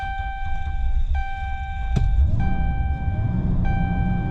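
A Dodge Ram with electrical problems idles with a steady engine rumble under persistent electronic warning chimes, and a sharp click partway through as the engine cuts off and restarts, close by with no talking.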